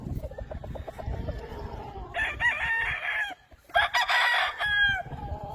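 Kelso game roosters on an Oklahoma farm crow in two long, strained calls, close and fairly loud, preceded by low clucking and yard noise.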